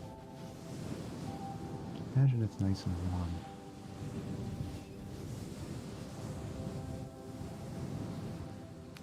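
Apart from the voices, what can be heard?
ocean waves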